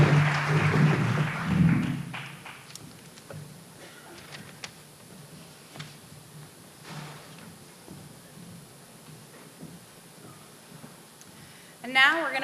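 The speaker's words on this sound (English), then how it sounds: "To give them one more round of applause" An audience at a candidates forum applauds the candidates in a dense burst of clapping that fades out within about two seconds, leaving quieter room noise with scattered taps and movement.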